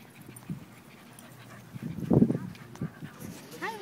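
A Labrador puppy gives a few soft whimpers and light panting, close by but faint, with a brief louder burst midway against a quiet indoor background.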